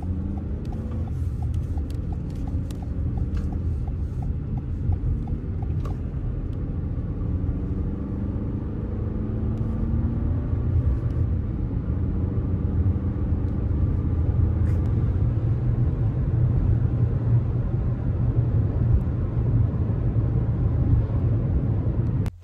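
A brand new car out on a test drive, a steady low engine and road rumble that builds slightly as it goes, continuous and close with no speech.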